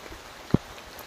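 Steady, soft rain patters across a tea garden where pickers are at work, a quiet even hiss broken by one dull thump near the middle.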